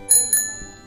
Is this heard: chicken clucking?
no